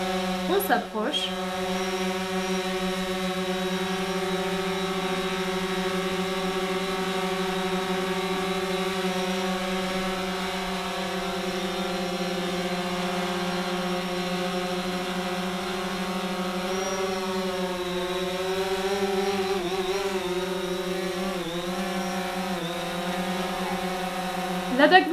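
A camera drone hovers overhead in Ladakh with a steady, droning rotor whine that holds throughout and shifts slightly in pitch near the end, while someone speaks faintly.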